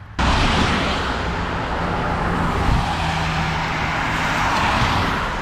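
A car engine starts up and settles into a steady running hum from inside the vehicle on a rainy day, continuous and moderately loud.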